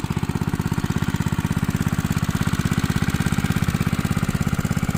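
A small engine-driven water pump runs steadily at a shrimp pond, its loud, close motor chugging in a fast, even rhythm throughout with no talk.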